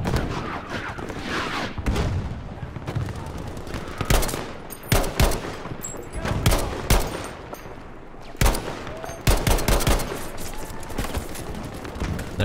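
Rapid gunfire in the Battlefield V shooter game, with sharp rifle shots and bursts of machine-gun fire cracking close and loud in irregular volleys.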